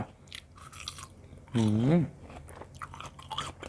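Chewing on large, long candied tamarind pods, soft wet mouth sounds close to the mic, with a short hummed voice in the middle.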